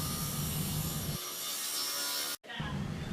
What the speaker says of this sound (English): Then we used the table saw to rip the cedar 1x4 for the sides and the roof.